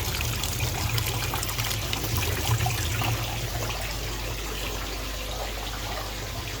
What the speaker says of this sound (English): it sounds like water going in